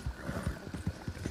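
Horse hooves clip-clop in a steady, evenly spaced rhythm in the video game Red Dead Redemption 2, quiet and alone with no talking.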